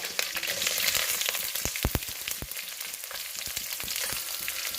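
Onions fry in a pan with curry leaves and kasuri methi, a loud continuous hiss and crackle with a few sharper pops of stirring, close and without speech.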